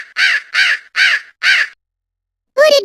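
A hooded crow gives four loud, evenly spaced harsh caws close up, followed after a pause by a short spoken voice.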